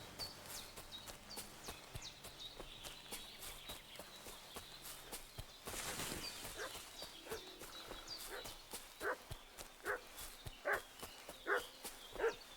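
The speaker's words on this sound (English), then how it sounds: "What's that dog making such a fuss about?" A dog barks repeatedly in Kingdom Come Deliverance II, with sharp barks growing clearer toward the end over footsteps, hoofbeats and ambient game sound.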